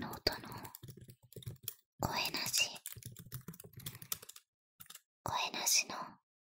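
Close-up computer keyboard typing in bursts of rapid clicks, with soft whispering from one side to the other layered among the keystrokes.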